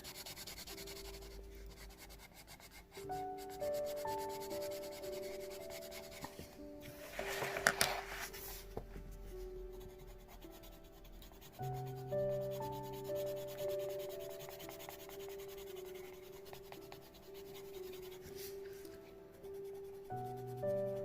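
Colored pencil pressed hard against paper while coloring mandala petals, giving steady close rubbing and scratching strokes in repeated bursts with a few brief pauses and no talking.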